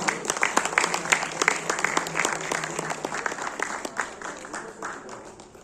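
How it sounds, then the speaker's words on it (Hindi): A theatre audience at a national drama festival applauds, steady dense clapping from many hands that slowly thins toward the end, fairly close and alone without talk. "तालियां संजीता जी के लिए"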